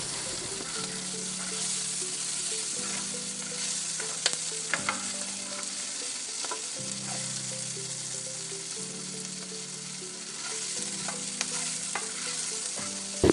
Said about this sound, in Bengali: দিয়ে দেব অল্প পরিমাণ তেল পেঁয়াজ কুচি